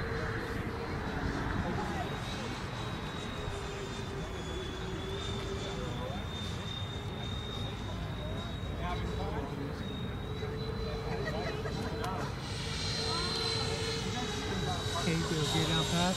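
A Freewing MiG-29 radio-control model jet passes at a flying field, its ducted-fan whine holding as a steady high tone over constant broadband roar. A voice speaks briefly over it.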